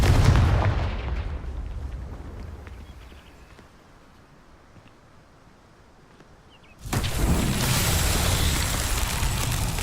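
Booming Confringo blasting-spell explosions in the Hogwarts Legacy video game: a loud blast that fades over several seconds, then a second heavy burst that stays dense and roaring to the end.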